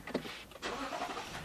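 Car engine starting after a brake pad repair: a brief cranking burst, then the engine catching and settling into a steady rumble, heard up close without talk.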